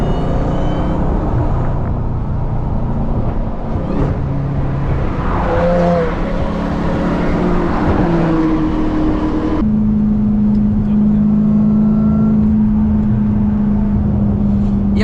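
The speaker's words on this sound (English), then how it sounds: "the McLaren is going for the pass" A McLaren supercar with a titanium exhaust passes during fast highway driving beside a Hellcat Durango. Loud, continuous engine and road roar rises as it goes by, then settles into a steady high drone with no talk.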